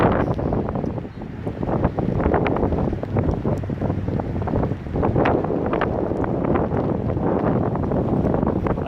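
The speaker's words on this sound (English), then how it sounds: "right now it's gusting about 30 kilometers an hour" Strong gusts, around 30 km/h, buffet the open air at the old Porteau Cove ferry terminal by the sea, producing a steady, loud rushing roar across the microphone with brief dips and surges and no talking.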